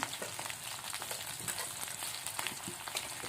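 Food frying in a pan gives a dense, steady crackle and sizzle with small irregular pops, fairly quiet and close, with no voices.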